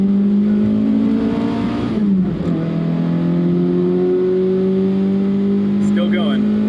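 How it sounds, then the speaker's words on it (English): A Toyota AE86 with a 4AGE 16V engine revs hard from inside the cabin, pitch climbing steadily toward the red line, dipping briefly at a shift, then rising again loud and close. "Bring it up to the red line."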